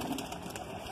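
A Kalanch high-flying pigeon coos softly and close by, a brief low murmuring call with faint background noise.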